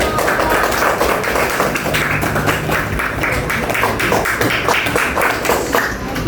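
Classroom applause from students clapping together for a group presentation, a dense steady patter of many hands held at an even level throughout, with faint room sound beneath.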